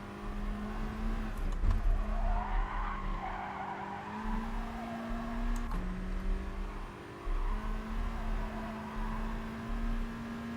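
Race car tyres squealing in GT Sport, a sustained scrub of tyre noise over a steady droning engine note that shifts pitch as the car corners, loud and continuous with no talk.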